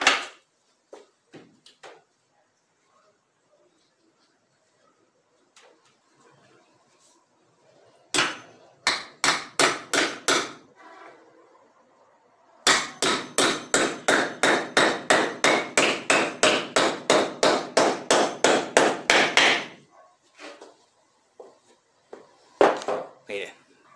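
Hammer striking a nail to fix a wooden piece in place during a home woodworking job, heard as two loud rhythmic runs of sharp blows, one short and one long and steady, with a few scattered knocks around them.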